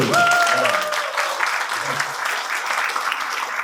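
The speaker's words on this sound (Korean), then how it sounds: "박수 한번 주세요." A room of party members at a Busan party meeting breaks into applause, a steady wash of many hands that carries on evenly while a voice calls out briefly at the start.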